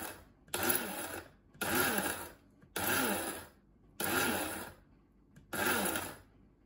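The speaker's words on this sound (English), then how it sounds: "just grind it up. I find pulsing grinds work best." A home grinder pulses dried pumpkin into flour in five loud, evenly spaced bursts of about a second each, with short quiet gaps between them and no talking.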